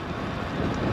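Steady wind buffets the microphone with a low, rumbling roar for the whole moment on a damp bike ride, loud and close, with no voices.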